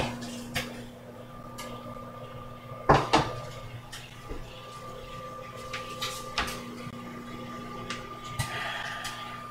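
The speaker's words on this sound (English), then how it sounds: "Hear that chicken going in the microwave." A steady electrical hum of a microwave heating chicken runs throughout, with occasional knocks and clatters of kitchen cupboards and dishes close by.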